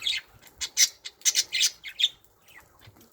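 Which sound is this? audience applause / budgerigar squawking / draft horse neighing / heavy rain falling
budgerigar squawking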